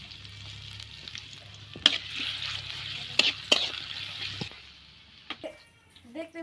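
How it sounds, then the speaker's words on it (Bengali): Chopped garlic fries in hot mustard oil in a home kitchen pan for a local chicken curry, giving a steady close sizzle broken by a few sharp clanks of stirring before it quiets down. "রসুন কুচি ভালোভাবে নাড়াচাড়া দিয়ে ভেজে নিব"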